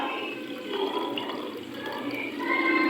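Cooked jaggery water poured through a strainer, a steady, continuous splashing and trickling of liquid, close and moderately loud throughout, with no talk.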